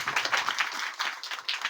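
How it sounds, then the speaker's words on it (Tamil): A crowd at a Karuppasamy temple gathering in Puliyarai, Tenkasi claps together in a brief, dense burst of many hands, close and lively. "ஜோரா எல்லாரும் கைதட்டுங்க"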